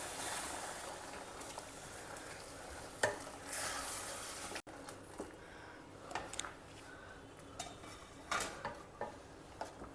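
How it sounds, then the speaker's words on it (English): A utensil stirs khara bath that sizzles steadily in a pan after boiling water is added, with a few scraping knocks against the metal and no voices. "Give it a good mix."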